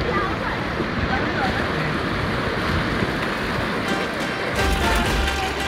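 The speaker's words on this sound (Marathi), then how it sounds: "हा पूर्ण समुद्र आहे इथे" Sea waves along the Konkan coast near Jaigad, heard as a steady, loud broadband roar of surf mixed with wind buffeting the microphone, continuous for the whole stretch with a slight surge near the end.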